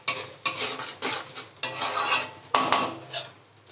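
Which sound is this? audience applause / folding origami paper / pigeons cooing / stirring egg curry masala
stirring egg curry masala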